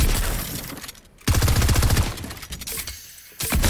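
Charge shotgun blasts in Fortnite, glitching from lag, arrive as loud, crackling bursts with a heavy low thump midway, sounding alone without talk.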